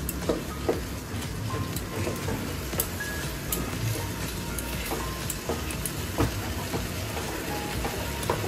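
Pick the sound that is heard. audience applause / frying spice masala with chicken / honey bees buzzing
frying spice masala with chicken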